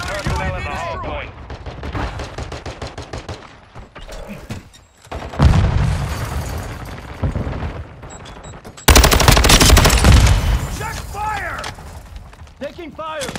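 Rapid automatic gunfire in Call of Duty Modern Warfare II, with loud sustained bursts and mechanical clatter between volleys and a voice speaking at moments.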